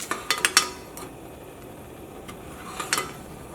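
A spoon stirs thickening milk in a pan, a quick run of metallic scrapes and clinks at the start, then a quieter stretch and another short cluster of taps later.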